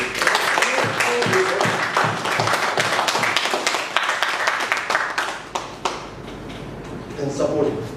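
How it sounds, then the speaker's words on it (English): Applause and clapping from the audience at a Toastmasters club meeting, a dense run of claps with people talking over it, thinning out toward the end. "Give them a round of applause."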